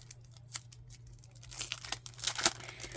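Crinkling paper packaging from a Valentine swap, rustled and torn in close bursts that grow busier and louder over the last half, with a sharp crackle near the end.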